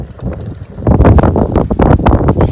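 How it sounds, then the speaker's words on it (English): Strong wind buffets the microphone outdoors beside a utility vehicle, a continuous rough roar that gusts louder partway through, with rustling on top. "It's really windy up here."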